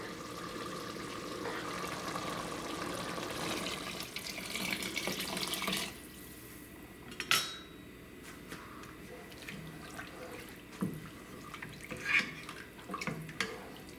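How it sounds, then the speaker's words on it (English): Five cups of water pour steadily into a pot of beef macaroni soup, a continuous close rushing splash for several seconds that thins to scattered drips and light clinks. "we add the water. It's 5 cups of water"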